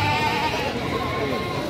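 Bleats from Javanese goats about 6-7 months old sound over a steady, noisy background, with a voice talking throughout.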